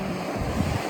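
Sea surf washing in at a rough beach with black sand in Bicol, a steady loud roar of waves with wind buffeting the microphone, no voices.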